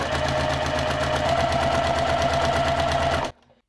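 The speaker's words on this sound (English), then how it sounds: "I'm just going to sew down along that edge." A sewing machine stitches steadily along the edge of a baby blanket, its rapid even mechanical chatter loud and close, then stopping abruptly just before the end.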